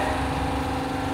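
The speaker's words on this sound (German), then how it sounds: "Wir müssen das warten, bis der Kompressor aus ist." An air compressor runs steadily in a workshop, a loud continuous mechanical drone with a low throbbing hum and no pauses, heard on its own without voices.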